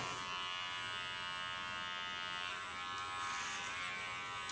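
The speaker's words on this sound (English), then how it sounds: "Use my clipper as a comb by taking the blade to the back." An electric hair clipper runs close by throughout, a steady bright buzz during a side-shave haircut, with the blade used flat like a comb through warm hair.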